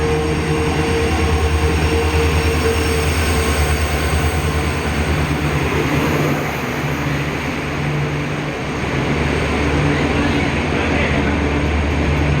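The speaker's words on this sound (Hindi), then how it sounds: "Madgaon express via Konkan railway थोड़े ही समय में प्लेटफॉर्म क्रमांक" The Madgaon Express on the Konkan Railway rolls into a station platform with a loud, continuous rumble and steady hum of wheels on rails, close by and unbroken for the whole span.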